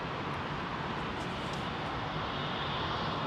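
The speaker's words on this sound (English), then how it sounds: "I know this is a 320, but this is a 320 Neo with Swiss Air" A Swiss Airbus A320neo airliner at London Heathrow gives off a steady, distant broadband engine rumble and whoosh that stays even and moderately faint the whole time, with no voices over it.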